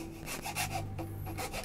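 A file rasping on the nut of an inexpensive ukulele during a repair, heard as a short run of close, quiet rubbing strokes in a steady back-and-forth rhythm.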